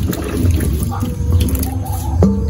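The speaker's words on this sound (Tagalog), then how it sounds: "Hugasan ko na rin ito. Buhos mo na lang." Water poured over squash being washed in a home kitchen, a steady close splashing and trickling with a few drips, no talk.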